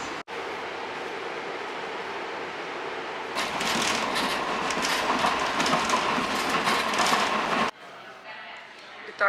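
A tram ride heard from inside the car: a quiet interior gives way to a loud, rushing rattle of wheels on track for several seconds, then fades back down as the car settles.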